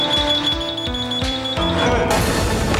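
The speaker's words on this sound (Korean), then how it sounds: "여지없이 울리는 연기 감지기" A steady high-pitched electronic smoke detector alarm rings continuously during a high-rise building fire test, with repeated low thumps and rumbling noise underneath, growing louder and noisier toward the end.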